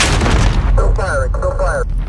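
Gunfire and explosions in the Call of Duty video game, a loud burst of shots and booms at the start, followed by tonal game effects while a voice speaks briefly.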